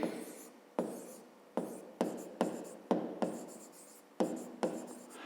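Pen writing by hand on paper while working a grade 5 math exercise, a rhythmic series of close scratchy strokes repeating roughly every half second, with no talk.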